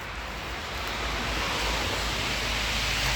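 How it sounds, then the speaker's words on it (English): A small forest creek runs steadily close by, a broad continuous rushing wash that swells slightly after the first second and holds level, with no voices. "Oh, there's a little creek."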